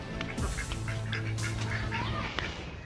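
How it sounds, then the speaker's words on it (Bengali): Geese at a pond honking and quacking in several short, overlapping calls, close and fairly clear over low background noise. "এই যে দেখতে পাচ্ছেন সুন্দর সুন্দর রাজহাঁস"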